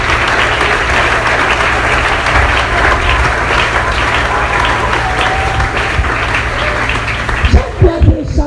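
A church congregation applauds in loud, sustained clapping for about seven seconds, with voices mixed in, before it thins to a few scattered claps.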